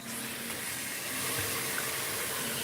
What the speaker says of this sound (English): let's get that water nice and warm